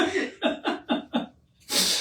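A single sneeze or burst of sneezing from a person on a live broadcast panel, with several short breathy sounds in quick succession and then a loud, sharp exhalation at the end.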